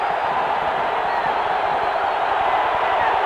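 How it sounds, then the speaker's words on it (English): A large football stadium crowd at an LSU vs. Alabama college game roars in a steady, sustained wash of cheering for the defense, distant and continuous with no distinct voices. "Listen to the crowd, Ricky. They want the D to score"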